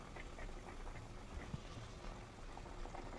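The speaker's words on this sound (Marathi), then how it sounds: "त्याला उकळी फुटलेली आहे" Soft bubbling of a baby potato curry simmering in a pot on the stove, a steady low burble with occasional small pops, fairly quiet and without any talking.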